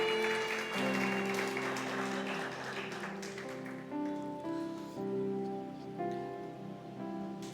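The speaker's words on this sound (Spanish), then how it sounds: "Dale un aplauso al que tienes al lado." A church congregation applauds during a service. The broad wash of clapping mixes with sustained keyboard or organ tones, then thins out after a few seconds while the music carries on.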